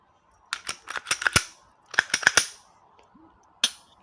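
A polymer-framed 9x19 Glock pistol being safety-checked: a close, sharp run of metallic clicks and clacks from the slide and action, a burst of quick snaps, then a second cluster, and one final crisp click after a pause.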